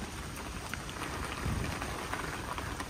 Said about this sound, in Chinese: 冒着大雨出来，大风大雨。